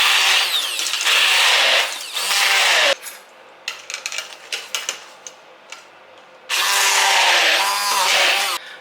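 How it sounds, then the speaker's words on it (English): A stick blender whirs while mixing pesto, two loud sustained motor bursts at the start, a stretch of clicks and knocks as it is moved around, then another steady whirring run at the end. "I want to try to use the stick blender instead"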